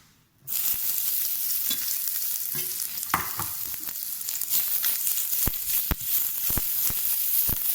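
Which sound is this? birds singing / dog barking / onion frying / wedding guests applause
onion frying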